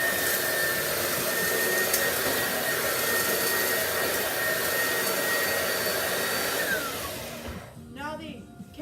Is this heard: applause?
no